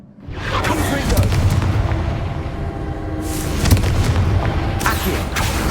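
A Confringo fire blast spell bursts in Hogwarts Legacy as heavy, close booms over a dense rumbling game soundscape, with a fresh blast about halfway through and another near the end.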